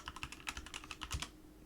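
Rapid typing on a computer keyboard, a quick, uneven run of close, crisp key clicks that stops abruptly near the end.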